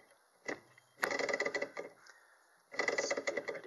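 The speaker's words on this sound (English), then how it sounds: "So what I'm going to do is kick the flywheel." A Stirling engine's flywheel is kicked by hand to start it, giving a few close, rattling mechanical clatters in two short bursts separated by a quiet gap.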